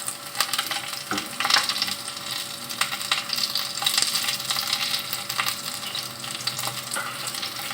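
Garlic and onion sizzle steadily in hot cooking oil, a continuous close crackling hiss with occasional clinks of a utensil stirring through the pan.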